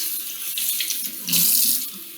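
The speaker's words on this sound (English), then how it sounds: "The next thing I'm going to do is put some water on it to get it" Tap water runs onto a silk scarf being wetted for tie-dye, a close, splashy stream that swells louder toward the middle.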